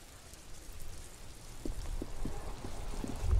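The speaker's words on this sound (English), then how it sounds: "Droplets of rain fall on the white on blue police livery of the motor carriage" Steady rain falling in the detective video game Disco Elysium, a soft continuous patter with scattered droplet taps that grows slightly louder midway, with no talking.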